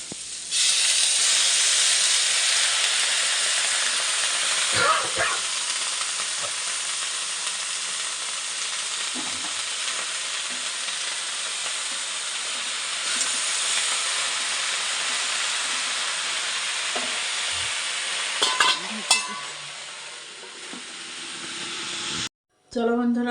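Shak greens frying in a pan, a loud, continuous sizzle and hiss close by, broken by occasional scrapes and knocks of stirring.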